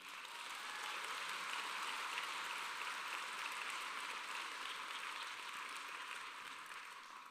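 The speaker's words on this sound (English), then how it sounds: "How about a round of applause for these?" Sustained applause from an audience at a medical school commencement ceremony for the American University of Antigua College of Medicine, a dense even wash of clapping that holds steady throughout and eases slightly at the end.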